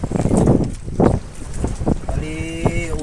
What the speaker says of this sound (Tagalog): Gawa kasi ng mahangin.